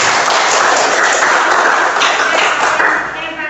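A classroom of pupils gives a pupil a burst of loud, dense clapping that holds steady and then eases off near the end.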